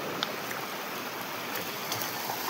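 Floodwater pours down a broken path in a rain-soaked village settlement, forming a makeshift waterfall. It makes a steady, even hiss of rushing water with faint splashes scattered through it, and no voices are heard.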